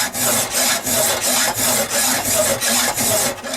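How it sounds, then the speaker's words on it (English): A hand file strokes repeatedly across a steel knife blade at the plunge line in a steady rhythm of about seven rasping pushes, loud and close, each stroke separated by a brief gap, with no talking. "you push it straight against it right there, and you just keep filing and working it out this way"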